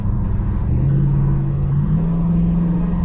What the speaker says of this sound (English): I'm cruising down the road. That ought to be able to show up at least. And right now I'm in overdrive.